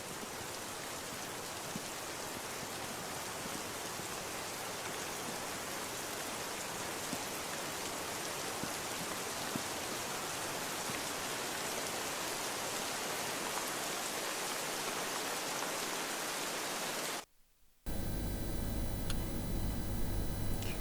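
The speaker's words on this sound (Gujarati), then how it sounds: "વડગામમાં ભારે પવન અને 5 ઇંચ વરસાદ વરસ્યો." Heavy rain with strong wind pours down in Vadgam, a dense, unbroken hiss of falling water that holds steady for a long stretch, then cuts off abruptly before a different, rougher noise takes over.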